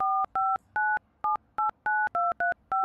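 A telephone keypad dials the police, about ten sharp two-tone beeps in a quick, slightly uneven rhythm, close and clear with no voices.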